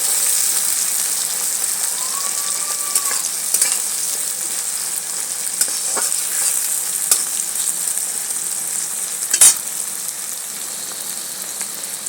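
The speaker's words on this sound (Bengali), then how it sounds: "পেঁয়াজটাকে একটু ব্রাউন করে ভেজে দেবো" Sliced onions frying in oil in a pan while a bata fish curry is being made: a steady, close crackling sizzle runs through the whole stretch, broken by a few faint stirring clinks and no voices.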